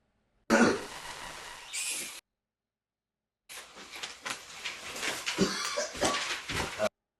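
Two bursts of harsh coughing, a short fit followed by a pause and then a longer, rougher spell, close and fairly loud.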